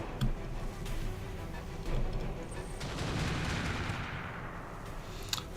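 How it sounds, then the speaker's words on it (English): Bursts of LBX autocannon fire in a mech video game come as repeated punchy shots over steady engine rumble, moderately loud with a sharp crack near the end. "It's a lot of LBX shots."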